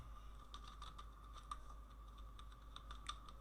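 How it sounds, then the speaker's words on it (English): Soft, quick typing on a computer keyboard, a steady patter of light key clicks close by over a low background hum. "So here I type the font"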